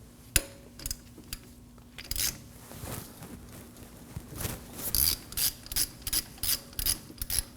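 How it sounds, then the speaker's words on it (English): An 11mm socket wrench ratchets a bolt loose on a front brake hose at the caliper of a 2014-2020 Acura MDX, with a scatter of clicks, then a steady run of sharp, close ratcheting strokes in even rhythm. "Using an 11mm socket, we're going to remove the hose from the caliper."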